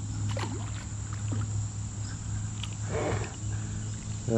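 Water sloshes and gurgles around a small boat being moved in a creek current, with a steady low engine-like hum throughout and a brief splash near the end.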